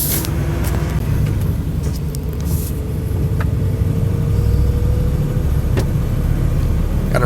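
A farm vehicle drives along a freshly paved road, its engine humming steadily under smooth tire roar, with a few light clicks and knocks from the cab along the way.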